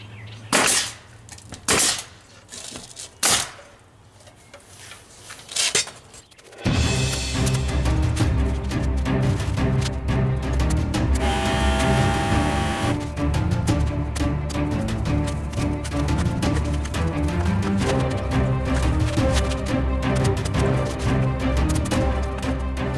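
A cheap pneumatic nail gun fires into roofing shingles on a barn kit roof: several sharp, loud separate shots at the start, then a dense, continuous noisy wash of sound with no clear shots.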